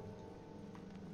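Horse hooves in the fantasy video game Sword Coast Legends: a faint, steady clip-clop of hooves over a low droning game background.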